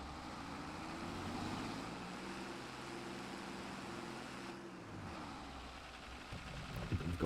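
An old tractor engine in Farming Simulator 22 labors uphill, a steady low droning rumble that holds under load for the whole stretch, with a slight shift in pitch near the end.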